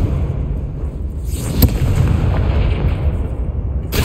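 A Confringo fire spell blasting in Hogwarts Legacy, a loud rumbling explosive burst with a sharp crack near the middle and a sustained roaring tail, booming and close.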